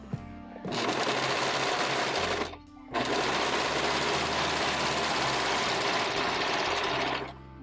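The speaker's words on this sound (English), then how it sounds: "But I find it's easier to just use my serger." Serger sewing doll mittens, running in two loud sustained whirring bursts, the first about two seconds and the second about four and a half, separated by a short pause and followed by a quieter tail, close up.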